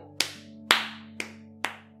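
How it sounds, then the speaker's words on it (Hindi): Four sharp, separate hand claps in an animated story, close and loud with brief gaps between them, over a faint steady hum and no voices. "वो कहते हैं वाह बेटे वाह ताली बजाते हैं भाई"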